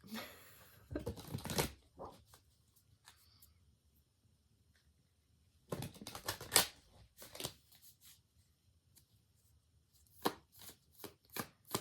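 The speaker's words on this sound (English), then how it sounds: "Let me shuffle a little bit." Bursts of crisp, rapid riffling as a deck of cards is shuffled, separated by quiet pauses, close up.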